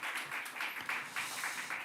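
Church congregation clapping together during a Sunday worship service, a steady patter of hands with slight swells, moderately distant and fairly quiet, no talking.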